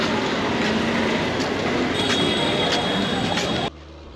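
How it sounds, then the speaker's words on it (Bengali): A crowded passenger train at an Indian station makes a loud, continuous rumble and wheel noise with a faint high whine, then cuts off abruptly to quiet. "তো এই যে আমাদের ট্রেন"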